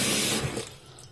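Baguio pechay being rinsed under running tap water for homemade kimchi, a steady close splashing rush that is loud for the first half and then eases off to a softer trickle.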